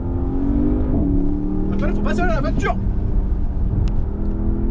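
A Porsche Panamera GTS drives under load with a loud, droning engine note that shifts pitch as it revs, while people talk over it in the cabin.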